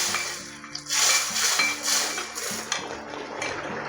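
Ghee-fried cashews tipped into a pot of chana dal payasa, with clinks of a metal spoon scraping and tapping against the pot in a steady rhythm over a low background hum, no talking.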